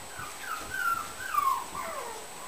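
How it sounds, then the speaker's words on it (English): Puppies whimper and whine in high, wavering cries that rise and fall, several soft yips overlapping close by in a quiet room. "I hear Kira's puppies too"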